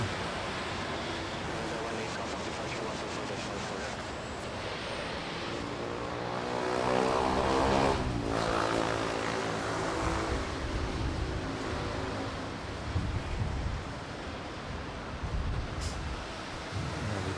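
A passenger jet rolls along the runway at Manila Airport, its broad engine roar swelling and peaking midway before easing off, heard from a fair distance over steady wind-like background noise.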